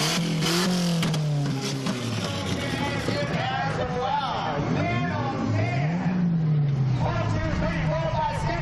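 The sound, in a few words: race car driving past at a fair race event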